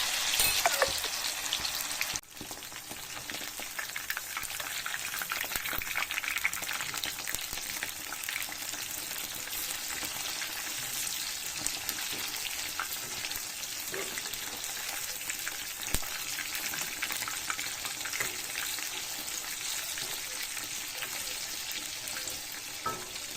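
Chicken green kebabs frying in hot oil, a steady close, dense crackling sizzle that carries on without a break from start to finish, with no voices.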